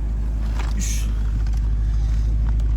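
A BMW M3 E93 convertible with its muffler deleted gives off a loud, steady low engine rumble that holds a continuous drone throughout, with no voices over it.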